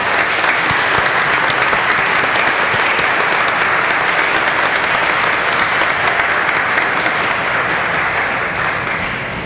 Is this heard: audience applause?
yes